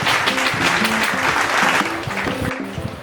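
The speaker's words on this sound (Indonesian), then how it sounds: "Kasih aplaus untuk kita semua dulu" A classroom group claps together at the end of a lesson, a dense burst of applause close by that holds steady and then tapers slightly.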